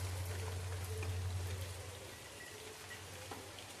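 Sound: light rain falling

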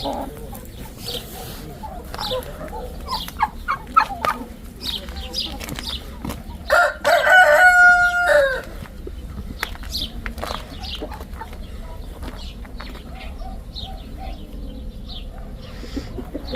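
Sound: chickens clucking and rooster crowing in garden

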